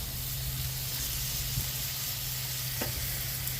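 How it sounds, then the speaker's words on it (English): Chopped meat sizzles steadily on a hot griddle while browning for a chopped cheese sandwich, a dense continuous frying hiss up close with a couple of faint scrapes. "This stuff all chopped up good to get it browned."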